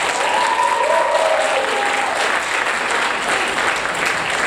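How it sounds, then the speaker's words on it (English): Audience applause for the finalists at the close of a school debate competition, the Sultan Zainal Abidin Cup; a steady, dense wash of many hands clapping fills the whole stretch at even loudness. "Can we have another round of applause for the finalists?"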